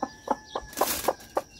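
A pet chicken clucks in a quick run of short, close, fairly loud clucks over about a second and a half, with no one talking.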